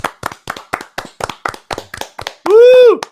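A burst of hand claps from a small group, quick and uneven, fills most of the stretch before a loud whooping cheer caps it off at the end.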